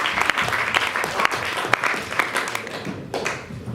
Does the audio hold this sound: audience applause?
yes